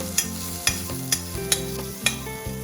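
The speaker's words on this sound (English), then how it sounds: "then we give it a good stir" A spoon stirs pasta sauce in a pan over a low flame, giving five or six sharp scraping strokes at a steady rhythm over a soft background, with a faint tonal hum beneath.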